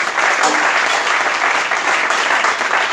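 A church congregation claps loudly and continuously, a dense wash of applause that holds steady for a few seconds.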